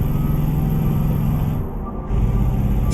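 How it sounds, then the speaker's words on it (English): A heavy truck engine in the American Truck Simulator game drones steadily and loudly throughout, with a low rumbling hum and a brief dip in level near the middle. "Is the game too loud, like the truck?"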